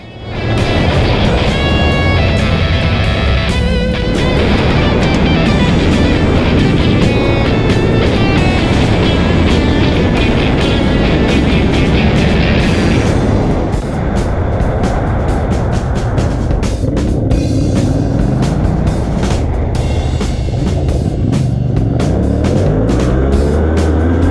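Adventure motorcycles ride fast in a group at a Dakar Series rally event in Portugal, engines roaring loud and steady throughout with rising and falling revs as bikes pass close, wind rush mixed in and no talking.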